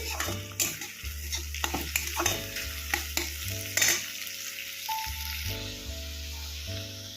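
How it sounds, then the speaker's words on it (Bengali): Onions frying on a medium flame in a pan for a Bengali fish curry, a steady sizzle under repeated scraping and stirring strokes of a metal spatula, with occasional clinks against the pan. "মিডিয়াম ফ্লেমে ভাজতে হবে"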